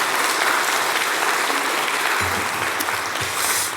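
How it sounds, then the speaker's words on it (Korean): A church congregation applauds, a dense, loud burst of many hands clapping together that carries on steadily and then thins slightly toward the end. "박수를 치려면 좀 확실하게 영광입니다."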